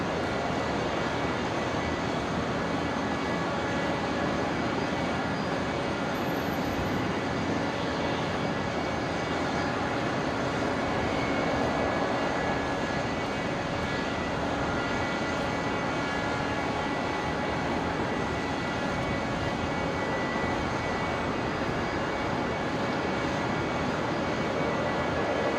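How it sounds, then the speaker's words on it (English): A Qantas airliner arriving from Sydney touches down at Brisbane airport, heard from a distance as a steady, broad jet roar that holds evenly for the whole stretch. "Just caught Qantas 532 touching down. In from Sydney."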